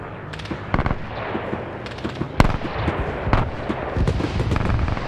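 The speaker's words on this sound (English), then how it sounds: "Now I'm hearing the AA fire." Anti-aircraft gunfire in a WW2 armor battle video game, a ragged series of sharp bursts and thuds at varying distances, some close and loud, others softer, over a steady rumbling battlefield background.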